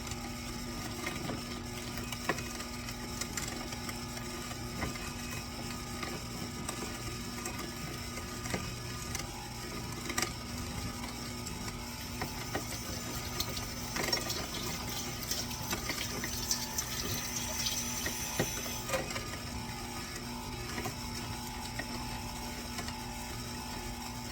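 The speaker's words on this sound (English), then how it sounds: "let me just finish grinding. Let's grind and get it out." A meat grinder works through chicken apple sausage mixture with a steady, faint mechanical whir and ratcheting clicks, plus occasional clatter, continuous for about twenty-four seconds with no talking.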